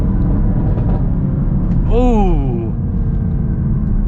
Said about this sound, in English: And just listen to that with the upshifts and the downshift gargles.